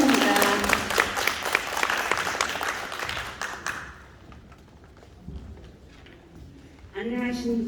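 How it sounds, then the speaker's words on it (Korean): An audience at a residents' assembly in a Seodaemun cultural and sports hall claps loudly for about four seconds, then the applause fades into room noise before a voice begins speaking. "큰 박수 부탁드립니다."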